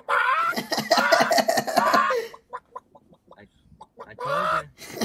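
A person imitates a chicken with rapid, bursty clucking vocalizations, followed by a few short clucks and coughs and another clucking burst, close and fairly loud.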